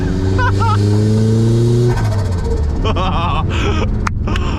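Turbocharged Mazda Miata cruising Brisbane streets, its engine droning steadily then revving through gear changes, loud and close from inside the car with a voice talking over it.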